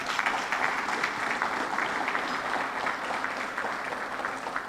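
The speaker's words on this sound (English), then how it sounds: "Please give yourselves a round of applause." An audience at a police department awards ceremony applauds, a dense, steady clatter of many hands clapping together in a room, sustained throughout at moderate loudness.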